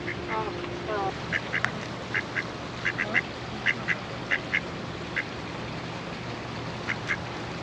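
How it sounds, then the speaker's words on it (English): Ducks quack in short bursts of two or three calls, moderately close, over a steady background hum with some faint voices at a campground in Pahrump Valley, Nevada. "Ducks are closer than they appear."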